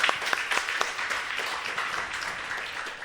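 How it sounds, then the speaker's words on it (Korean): Dense, continuous applause fills a church during an ordination service, many hands clapping at once, loudest at the start and easing slightly, heard from across the room. "박수 한번 해주세요."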